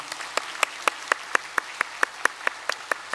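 A church congregation at a Korean Sunday service claps in unison to welcome new members, a loud, even beat of about fourteen sharp claps at a steady rhythm.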